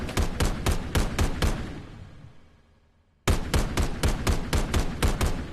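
A semi-automatic sniper rifle in the shooter game Contractors Exfilzone fires a rapid string of loud, sharp shots, pauses while the echo dies away, then resumes another evenly spaced burst of shots.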